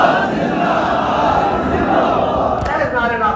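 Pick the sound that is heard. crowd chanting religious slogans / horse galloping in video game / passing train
crowd chanting religious slogans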